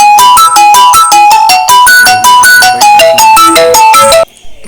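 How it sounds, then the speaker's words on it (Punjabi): A loud mobile phone ringtone for an incoming call plays alone as a fast repeating melodic tone pattern, then stops abruptly, leaving faint background noise. "Vijay the phone he guys"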